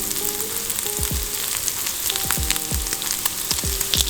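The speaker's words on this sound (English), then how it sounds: "I'm also crisping up some of that pancetta on like medium-high heat." Pancetta crisping in a pan over medium-high heat gives a loud, dense, close sizzle that runs continuously, broken by a few regular low thumps and scrapes from the pan, with no voices.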